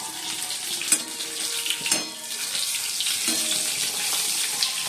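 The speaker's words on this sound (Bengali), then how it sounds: "বেগুনটা ভাজবে এবার দিয়ে" Eggplant frying in a pan, giving a steady bright sizzle with occasional clicks and scrapes from stirring, close and continuous, with no talking.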